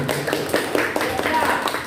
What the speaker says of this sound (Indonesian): Dapat tepuk tangan buat kelompok 4